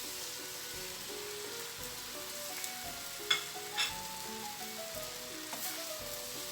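Cabbage stir-frying with bihon noodles and luncheon meat in a pan: a soft, continuous sizzle with a couple of light utensil clicks partway through, fairly quiet and without speech.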